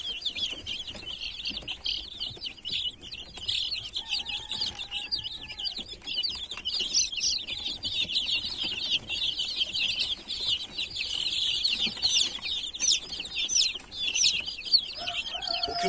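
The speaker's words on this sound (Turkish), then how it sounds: "Bu şunlar yeni çıkan civcivlerimiz." Dense high peeping of many newly hatched chicks fills a coop of ornamental chickens continuously, with an occasional soft cluck from a hen underneath.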